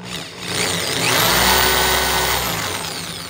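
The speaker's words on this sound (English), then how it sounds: "we're gonna go ahead and drill. Yep, hammer drill's on" A hammer drill bores a hole for a trailer hitch, a loud steady grinding whine that swells and holds for a few seconds, close up with no talk.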